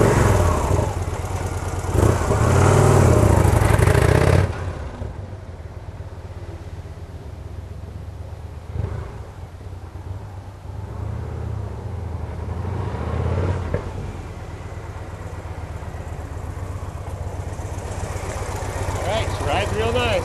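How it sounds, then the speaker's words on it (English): Victory motorcycle cranking to life with a loud close burst, then settling and cruising away into a fainter engine drone that swells again as it returns, a voice briefly heard at times. "You hear it crank up, you'll hear me cruise off and cruise back into the scene"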